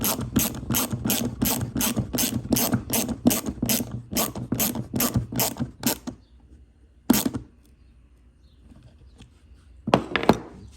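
A ratchet tightening screws on a plastic lawn mower carburetor, a rapid, even run of close clicking for several seconds, then silence broken by one lone click and a short final burst of clicks.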